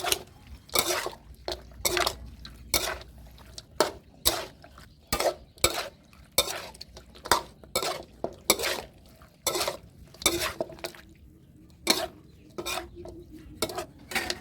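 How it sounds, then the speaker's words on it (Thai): A spoon scrapes and clinks rhythmically against a bowl while chicken feet larb is tossed together, dozens of sharp, close scraping strokes in an uneven steady beat with short pauses, heard alone. "คลุกเคล้าส่วนผสมทุกอย่างให้เข้ากัน"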